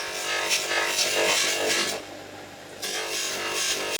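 Bench buffer polishing a part from a 1976 Raleigh Chopper SE/Jubilee Edition bicycle, a steady close abrasive whir with a brief dip in the middle before the grinding rush resumes.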